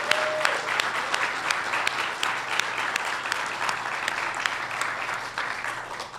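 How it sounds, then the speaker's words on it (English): An audience at an evening award ceremony gives a round of applause for the award winners, a sustained crowd of hand claps that carries steadily for about six seconds before starting to taper, with no talk. "let's just one more round of applause for all of our award winners tonight"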